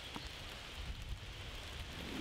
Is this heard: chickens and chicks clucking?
no